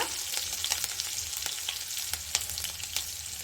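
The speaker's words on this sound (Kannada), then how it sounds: "ಇಷ್ಟನ್ನು ಚೆನ್ನಾಗಿ ನಾವು ಎಣ್ಣೆಯಲ್ಲಿ ಫ್ರೈ ಮಾಡ್ಕೊಳ್ಳೋಣ" Finely chopped green chillies crackle in hot oil with a quiet, constant hiss, dotted by frequent small pops and spits, close but soft, with no one speaking.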